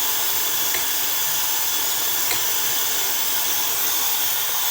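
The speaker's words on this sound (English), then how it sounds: "The vegetables are coming to a boil" A pot of ramen vegetables heats toward a boil, giving a steady, fairly loud broadband hiss and rush of steam with no talking and no clear bubbling bursts.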